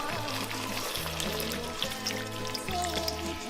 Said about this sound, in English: what we do next is warm water and just add it in